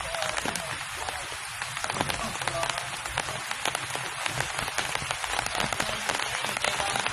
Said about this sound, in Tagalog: na ulan, lakas ng ulan